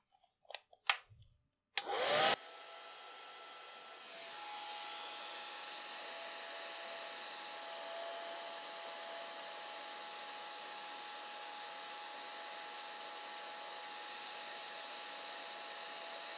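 A hair dryer runs steadily over a watercolor painting of a lamb, its even whooshing drone holding for many seconds after a few brief knocks and a sharp burst as it switches on.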